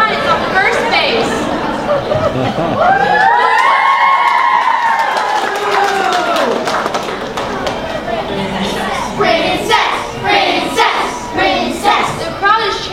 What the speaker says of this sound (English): The crowd is chanting to put Princess Petunia as pitch hitter